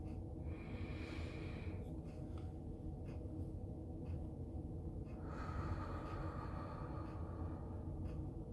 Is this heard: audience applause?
no